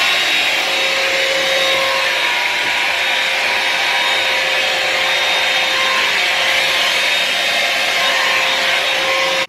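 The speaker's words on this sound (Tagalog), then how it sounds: "Meron pa tayo ditong suklay with dryer. Kaya isang gamitan ay ano na siya. Habang sinusuklay mo ay nag-dry din siya." A comb with a built-in hair dryer blows steadily as it dries hair, a loud, constant whooshing airflow with a faint motor whine that holds without a break from start to end.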